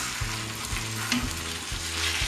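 Potatoes frying in a pan crackle and sizzle steadily and loudly up close, with several soft scrapes as a utensil stirs them through the hot oil.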